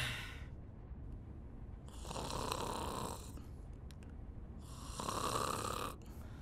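A person snores loudly in two long, rasping breaths separated by quieter breathing, the sound close and filling a small room at night in an Indonesian horror comedy setting.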